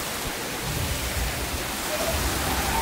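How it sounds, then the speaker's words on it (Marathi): Light, fine drizzle falls outdoors at a temple complex, a steady soft hiss of rain with no talking. "हा, पाऊस आहे ना बारीक बारीक."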